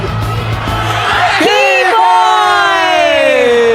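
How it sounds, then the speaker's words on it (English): A crowd at a Mobile Legends esports knockout match between ECHO and ONIC cheers with loud whoops and yells, while a strong drawn-out voice rises above the roar, all close and loud. "We're getting a lot of cheers from the crowd."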